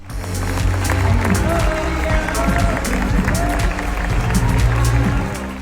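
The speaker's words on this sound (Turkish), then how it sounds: "Luca Guadagnino imzalı film 6 dakika boyunca ayakta alkışlandı." A large audience at the Venice Film Festival gives a standing ovation for Luca Guadagnino's film, loud continuous applause swelling into a dense, roaring wash with a deep rumble beneath.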